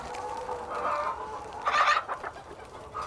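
Chickens cluck softly in a farm paddock, a steady murmur of hen calls topped by one louder squawk near the middle, with no talk.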